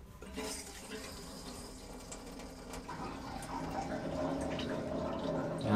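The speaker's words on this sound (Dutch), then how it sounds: "de gebloedel en zo wat je hoort is geen diesel wat lekt" Diesel fuel gurgling and sloshing inside a vehicle tank while it is pumped in, a continuous bubbling, trickling liquid sound that grows slightly fuller and louder toward the end.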